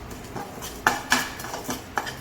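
Salt and asafoetida are dry-roasted in a pan for homemade idli podi while a spoon stirs them constantly, giving close, scattered metallic scrapes and a few sharper clinks against the pan.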